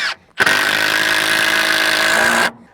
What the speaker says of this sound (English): It would help if I had the impact driver going the right way.